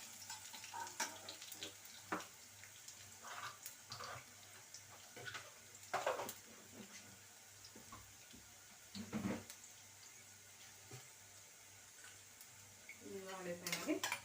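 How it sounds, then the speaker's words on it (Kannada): Spices sputter and crackle in a pan on low heat for a spicy pongal, with soft popping and sizzling bursts and occasional utensil clinks, while someone talks in the foreground. "ಇದನ್ನು ನಾವು ಸಿಮ್ಮಲ್ಲಿ ಇಟ್ಬಿಟ್ಟು ಈ ಥರ ಚೆನ್ನಾಗಿ ಫ್ರೈ ಮಾಡ್ಕೊಳ್ಬೇಕಾಗತ್ತೆ"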